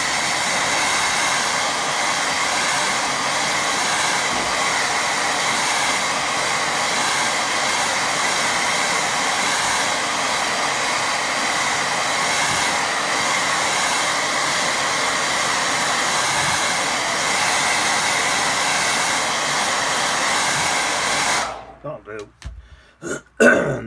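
A hair dryer blows steadily on a watercolour painting of a rural scene with sheep, a loud continuous whooshing roar lasting about twenty seconds before it cuts off, followed by a few faint handling sounds.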